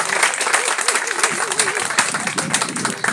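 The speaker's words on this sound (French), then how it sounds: "vous applaudissez, ça m'a fait chaud au cœur." Young people at a public consultation in Zattry applaud together, a dense ongoing clatter of claps that stays fairly even, with a voice speaking faintly over it.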